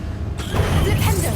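A Bombarda blast spell goes off in Hogwarts Legacy, a loud broadband burst rising from a quieter start and holding a rumbling, clattering tail through the rest of the moment.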